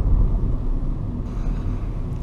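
VW Gol with automatic transmission driving in drive gear, a steady low engine and road rumble inside the cabin, continuous for the whole moment.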